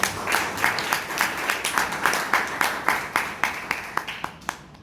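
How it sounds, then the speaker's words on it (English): A Toastmasters meeting audience in Bangalore gives a round of applause, steady clapping with a loose rhythmic pulse that thins out near the end. "please give a big round of applause to Toastmasters"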